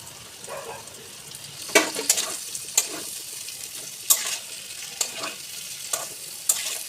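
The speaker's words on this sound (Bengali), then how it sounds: "এবার আমি দিয়ে দেবো পেঁয়াজ। পেঁয়াজটা দিয়ে একটু নেড়ে চেড়ে আমি ক্যাপসিকামটা দিয়ে দেবো।" Onion and capsicum stirred and fried in a pan while making soybean curry: a steady close sizzle with sharp scraping strokes of the spatula at irregular intervals, no voices.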